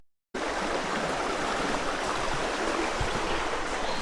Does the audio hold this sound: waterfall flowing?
yes